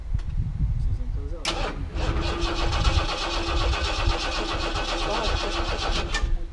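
A Cadillac engine cranks and catches, then settles into a steady rumbling idle, close and continuous, while people talk over it.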